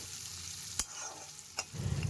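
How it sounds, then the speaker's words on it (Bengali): Paneer frying in oil seasoned with turmeric and salt, a quiet, continuous sizzle broken by two sharp clacks of a utensil and a louder crackling burst at the end, with no voices. "এখন এটার মধ্যে আমি একটু একটু করে পনিরগুলোকে ভেজে নিব।"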